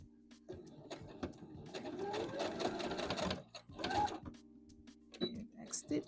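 A sewing machine stitches a dress from McCall's M8141 pattern, running in a close, steady mechanical whir that stops briefly and restarts for a short back stitch at the seam's end.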